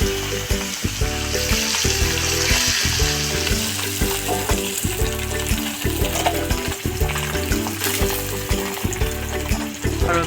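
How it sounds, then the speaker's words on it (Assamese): Rohu fish coated in salt and turmeric fry in hot oil in a kadai, sizzling loudly and up close with dense crackling and spattering, and the rhythmic scrape of stirring runs through it. "এইকেইটা মাছকেইটা এতিয়া নিমখ হালধি দি পেলাই কেৰাহীত ফ্ৰাই কৰিব"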